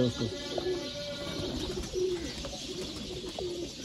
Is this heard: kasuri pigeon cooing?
yes